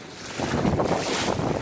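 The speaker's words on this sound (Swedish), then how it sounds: "Så kommer vinden igen." A gust of wind sweeps over a sailboat at sea, a broad rushing roar that swells after a brief quieter start and then holds steady, loud and close against the microphone, with no voices.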